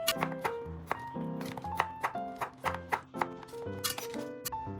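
A knife cutting radish into quarters for kkakdugi, a series of sharp chops and taps on a board at an irregular pace, close and fairly quiet, with some faint resonant kitchen clatter between strokes.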